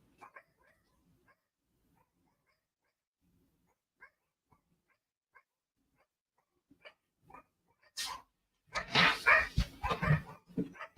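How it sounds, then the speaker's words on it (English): Dogs at home bark near the end: a sudden close burst of loud, repeated barks after a long stretch of near silence broken only by faint scattered clicks. "I apologize for the dogs barking"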